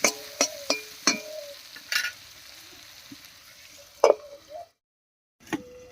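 Potatoes cooking with masoor dal in a pan give a quiet sizzle, broken by several sharp clinks and scrapes of a utensil against the pan. The sound cuts out briefly near the end, then one more clink follows.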